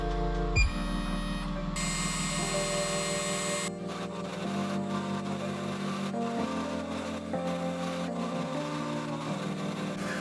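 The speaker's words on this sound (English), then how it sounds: "I used my CNC machine to mill out the pockets for the triangles." A small CNC machine with an end mill cuts pockets into plywood, giving a steady, loud mechanical whine and drone with shifting tonal pitches and a brief knock near the start, heard alone without talk.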